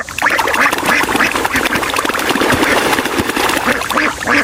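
Ducks on a farm quack steadily and loudly while being bathed and cleaned in the afternoon, with a busy wash of splashing and overlapping calls throughout.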